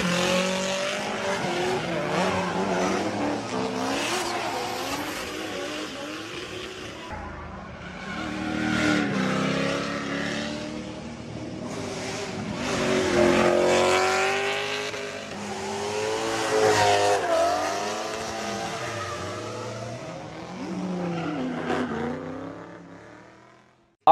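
Drift cars on Appalachian back roads skid and rev in repeated passes, engines screaming through rising and falling pitch with tire squeal, swelling loud as each car approaches then fading away.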